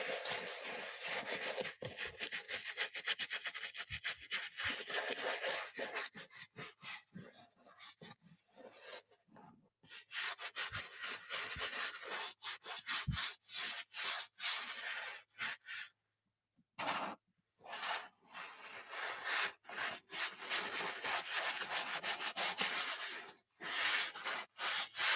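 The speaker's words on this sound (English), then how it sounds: "get our brush, get a little bit of it damp, put our cleaner, and scrub" Damp brush with cleaner scrubbing a surface in a household cleaning session, close, rasping back-and-forth strokes in bursts with brief pauses between.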